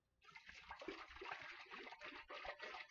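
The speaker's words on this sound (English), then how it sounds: "Now we usually add anywhere from 3 to 4 cups of water" Water poured into a mead jug, a steady close splashing and gurgling pour, faint overall.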